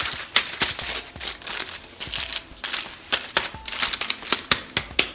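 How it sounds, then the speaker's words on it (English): Aluminium foil being folded and creased for balayage hair highlights, giving a run of sharp, close crinkling crackles in irregular bursts with no talking. "So just make sure you've got long enough foil. And I'll just give it one fold."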